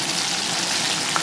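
Hairtail fish pieces sizzle steadily as they deep-fry in hot oil in a home kitchen, a dense, even crackling hiss close by with no talk.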